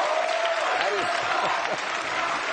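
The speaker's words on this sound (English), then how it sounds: "That is the most applause a Republican ever got around here." Studio audience applauds Ron Paul on a TV talk show, a dense, steady wash of clapping lasting throughout, with a voice speaking over it partway through.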